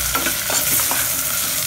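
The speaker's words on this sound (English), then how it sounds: "The vegetable is well coated with the masalas and it is all stir fry." Vegetables coated in masala spices, dhania powder and salt are stir-fried in a pan, giving a close, steady sizzle broken by scraping stirs, with no talking.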